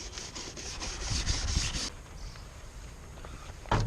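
A nylon plastic brush scrubs on a Ford Fiesta MK6 near the windscreen, giving close, quick rasping strokes that stop after about two seconds, followed by quiet and a brief knock at the end.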